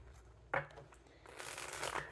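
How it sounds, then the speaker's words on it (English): A quick riffle of tarot cards followed by a softer sliding, shuffling rustle, close and quiet. "We'll do one more shuffle."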